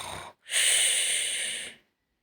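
A person imitates a snore with the voice: a short breathy intake, a brief pause, then one loud, sustained rasping snore lasting over a second, close to the microphone.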